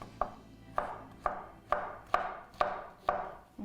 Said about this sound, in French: Je vais couper les champignons.